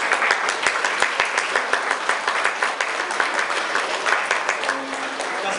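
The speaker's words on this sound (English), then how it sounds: "So I would like to give them a round of applause to them." Wedding dinner guests applaud steadily in a banquet hall, a dense continuous patter of many hands clapping at moderate loudness without pause.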